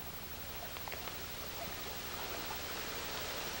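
Fast-flowing water of the American River below Nimbus Dam, a soft, steady broadband rush of current heard faintly and evenly without other sounds.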